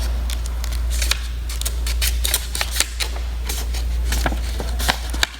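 Paper is folded and pressed along creases for a pyramid, giving close, crisp crackles and sharp snaps in irregular bursts over a steady low hum.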